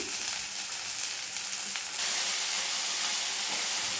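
Chopped onion leaves fry in a pan for an onion-leaf curry, giving a steady, close sizzling hiss that holds without a break and swells a little in the second half.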